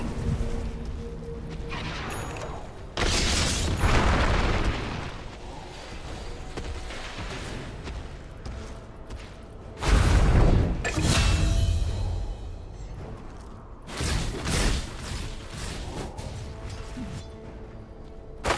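Dota 2 match in which a tower comes under attack: repeated loud impacts, crashes and clattering hits arrive in bursts over busy game noise, up close and without talk.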